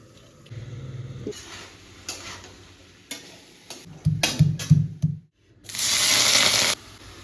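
Small-cut eggplant with salt and turmeric fries in mustard oil in a wok, with scattered clinks and stirring scrapes, then a steady, fairly loud burst of sizzling near the end.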